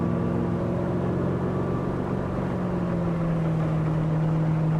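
A racing powerboat accelerating up onto plane, a loud steady engine drone with a hull and water rush, pitch shifting slightly as it gathers speed, with no voices.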